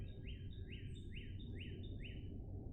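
Wrens singing outdoors: a run of five bright, rising chirps repeated at an even pace over a low background rumble, clear but moderately distant.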